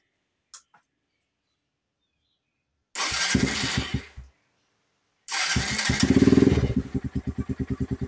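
A motorcycle engine is started after a valve clearance adjustment. A brief click comes first, then a short cranking burst that dies, then a second crank that catches and settles into a loud, even, rhythmic idle.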